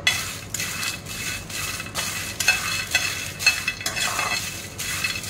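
Ingredients dry-frying in a pan with no oil, stirred steadily with a utensil: repeated scraping strokes roughly every half second over a soft continuous crackle, close and moderately loud, no voices.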